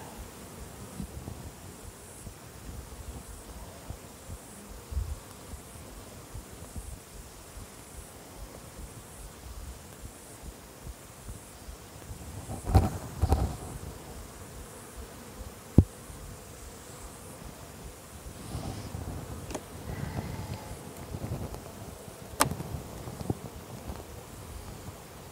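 Honey bees buzz steadily at an open hive during a mite check, a dense droning hum with occasional louder passes of individual bees close by and faint rustling handling noises.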